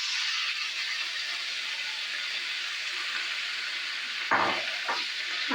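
Chili, garlic and chopped spinach sautéing in a pan for palak soup, a steady close sizzle with a brief clatter of stirring near the end, no voices.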